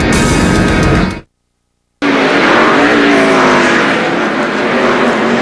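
NASCAR Winston Cup stock cars racing at Richmond International Raceway in the Chevrolet Monte Carlo 400, a loud roaring pack of engines that cuts out abruptly, then returns as a sustained close roar with rising revs.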